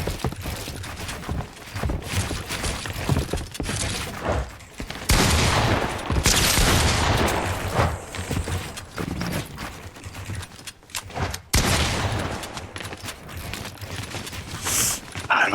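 Assault rifle gunfire in the video game Fortnite, dense rapid bursts of shots and game effects filling nearly the whole stretch, loud and continuous with brief gaps, while players talk over it.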